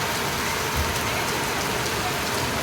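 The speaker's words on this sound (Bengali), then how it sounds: "ঝমঝম করে নেমে গেছে বৃষ্টি" Heavy rain pouring down outdoors while someone shelters on the way home, a dense, loud, unbroken roar of drops hitting surfaces with no pauses.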